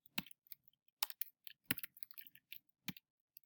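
Typing on a computer keyboard: a quick, uneven run of sharp key clicks with a few heavier thumps, close and clear, with no voices.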